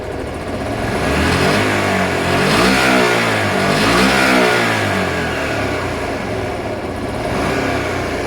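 A Honda Varadero 125 motorcycle engine, being warmed up, runs loudly up close and revs up and down in slow swells, rising to a strained peak and falling back before climbing again.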